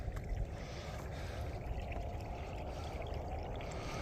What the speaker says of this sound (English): Got this water to flow.